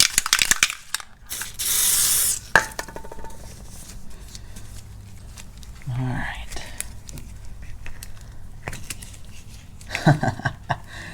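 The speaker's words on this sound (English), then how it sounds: "Installing the new ones should be just as easy, except I'm just gonna put a little bit of lubricant on it." Short hissing bursts of lubricant sprayed onto new steering bushings for a Jeep XJ, with a long burst early and a few briefer puffs later, interspersed with small mechanical clicks and handling noises.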